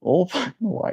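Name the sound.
sneeze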